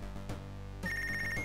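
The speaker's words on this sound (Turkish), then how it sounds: "Telefon çalıyor la" Phone ringing in the boxing management video game Punch Club, a loud electronic ringtone with a bright repeating tone that is clear and uninterrupted by speech.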